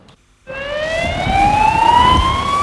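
Wailing ambulance siren rising steadily in pitch after a brief silence, loud and close amid the emergency response to the Madrid commuter train bombing, with street rumble beneath.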